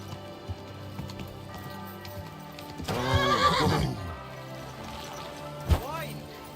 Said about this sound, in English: Hey! Your horse nearly trampled me!